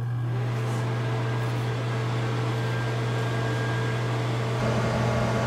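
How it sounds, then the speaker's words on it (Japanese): A microwave oven powered by an EcoFlow DELTA mini portable power station hums steadily with a constant low drone and fan-like whir, growing slightly louder near the end. "デルタミニで電子レンジを使います。"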